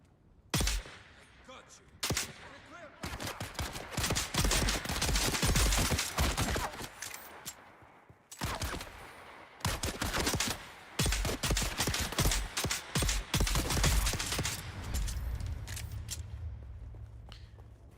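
Rapid pistol shots from a Dune: Awakening firefight ring out in dense, loud bursts separated by brief pauses, with a voice speaking intermittently underneath.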